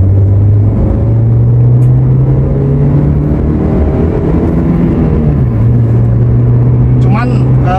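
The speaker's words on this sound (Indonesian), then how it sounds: "suara mesin dia masuk, jadi nggak senyap-senyap amat gitu loh." Toyota Corolla Altis engine under 2,000 cc droning steadily inside the cabin on a test drive, a low continuous hum that shifts pitch slightly as it revs, with road rumble throughout and someone talking over it.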